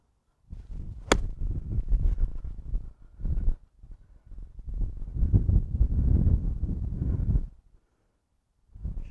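Gusty wind on a golf course buffets the microphone in low, uneven rumbling surges that come and go over several seconds, with a brief sharp tick near the start.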